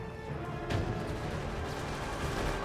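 A frag grenade going off in the shooter game Resident Evil: Operation Raccoon City, a single muffled boom early on, then a rumbling wash of battle noise that stays loud and steady.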